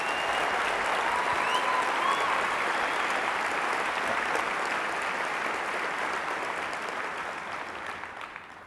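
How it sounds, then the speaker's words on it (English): A round of applause from a large conference audience at SXSW Interactive keeps up a steady, even wash of clapping throughout, slowly easing off toward the end, with no voice over it. "I'd love to get a round of applause for my team that sweated really hard to get this here today."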